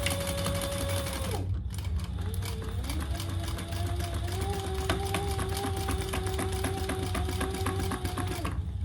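A sewing machine stitches the lining of a shoulder bag, running steadily and loud for most of the stretch after a brief pause near the start, its motor hum continuous and close.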